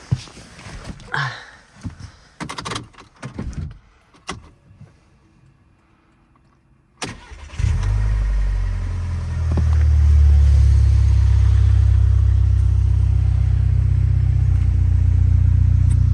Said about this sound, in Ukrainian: Холодний пуск.